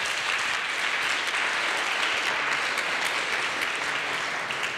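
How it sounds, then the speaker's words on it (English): Conference audience applauding the incubatees at a creative-industries session in Berlin, a dense, even round of clapping sustained from start to finish with no talk. "can we have a round of applause for our incubatees first?"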